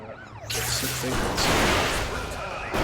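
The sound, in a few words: police car siren chasing player in Carmageddon Reincarnation video game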